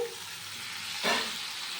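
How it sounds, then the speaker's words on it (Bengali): Ridge gourd pieces are dropped into a hot frying pan, producing a brief burst of louder sizzle about a second in over a steady background hiss, close and with no talking. "আমি এরপর ঝিঙেগুলো দিয়ে দিচ্ছি"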